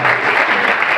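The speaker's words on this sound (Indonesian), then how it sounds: "Tepuk tangan dulu ya." Audience applause at a school talk show in a Denpasar high school, a brief, loud burst of dense clapping from a crowd of students.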